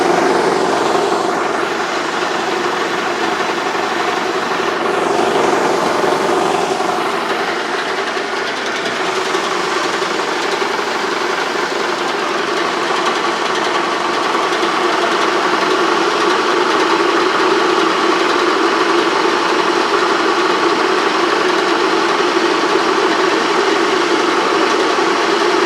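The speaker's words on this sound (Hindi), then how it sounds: "ऊपर से धान आ रहा है, नीचे से आपके सामने जो मिलिंग यूनिट से चावल निकलना शुरू हो गया है।" A 4-in-1 spice pulverizer rice milling machine runs with paddy fed in, giving a loud, steady, unbroken mechanical drone and rumble that holds without pause for about twenty-five seconds, with no talk.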